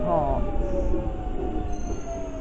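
A London Underground train pulls into Dollis Hill station, with rumbling wheels and a drawn-out high squeal of brakes or wheels against the rails, heard at close range.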